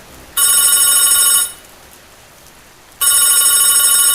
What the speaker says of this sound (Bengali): দাদা ফোনটা দেখে আসছি আমি